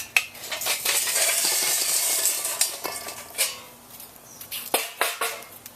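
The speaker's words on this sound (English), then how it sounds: "bank these coals to one side" Charcoal briquettes in a grill being scraped and shoved to one side, a steady gritty rattle with sharp clinks and knocks, close and fairly loud, no talking.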